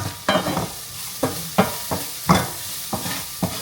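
Spices frying and sizzling in a pan, stirred with a utensil that scrapes in repeated loud strokes over a steady hiss, close up and without voices.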